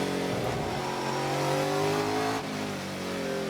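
Onboard Ford Mustang race car in the XGT class at the Trans Am race in Portland, its engine roaring loud and close with a steady high-revving drone that shifts pitch, briefly dipping before climbing again.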